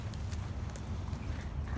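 Steady low rumble with faint, irregular knocks of horse hooves on ground, fairly close, with no talking.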